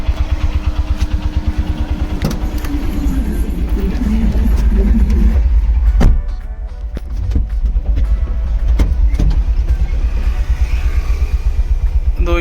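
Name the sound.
heavy city traffic in Coimbatore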